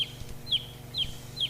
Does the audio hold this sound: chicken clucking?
yes